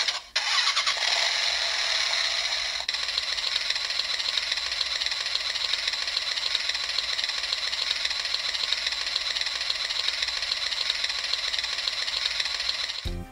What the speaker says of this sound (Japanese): あとは最後にゆっくりアイドリングでも聞きましょう